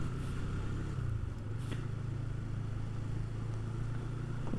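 Motorcycle engine running close by with a steady low idle rumble and a slight rise in revs partway through, alone without talk.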